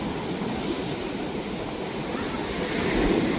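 Sea waves wash onto Boracay beach during the habagat monsoon season, a steady, close roar of surf mixed with wind noise across the whole short stretch, with no talking.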